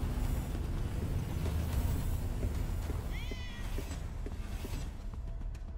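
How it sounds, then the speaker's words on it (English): A giant cat in the video game Ghostwire Tokyo lets out a short rising-and-falling meow midway through, fairly faint over a steady rumbling game background. "Okay, that's giant. It's a big-ass cat."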